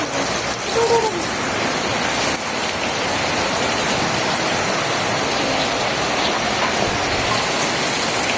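Rain falls steadily in a village, a dense, even hiss of drops on surfaces that holds at constant loudness throughout, with no clear talk.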